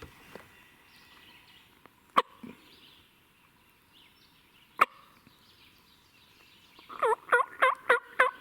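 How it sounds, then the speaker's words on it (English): A wild turkey gobbler in the Arkansas mountains gobbles in a quick rapid burst near the end, loud and fairly close, after a quiet stretch broken by two sharp clicks. "Just finally gobbled again."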